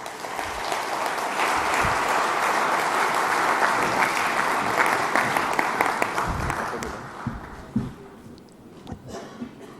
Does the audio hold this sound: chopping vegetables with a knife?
no